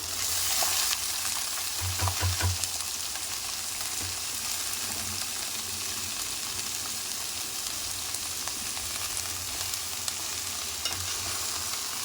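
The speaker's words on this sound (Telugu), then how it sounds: "ఇది కట్ చేసుకున్న క్యాబేజీ దీంట్లో వేసేసుకుందాం." Chopped cabbage with green chillies frying in oil in a pan, giving a constant close sizzle with a few scraping stirs near the start.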